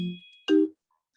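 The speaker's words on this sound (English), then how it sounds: "Sorry, I'm not going to answer the phone now." A phone ringtone sounds twice indoors during an online meeting: a short electronic tone followed by a brighter, louder chime, each under a second, then silence.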